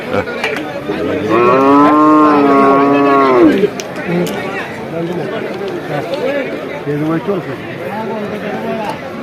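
Bulls bellow loudly at a busy cattle market, one long drawn-out moo standing out close by over the steady chatter of a crowd of traders.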